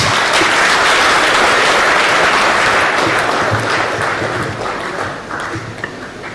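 Steady, dense applause from a lecture audience fills the room, sustained and loud for several seconds before gradually tapering off near the end, with no voices over it.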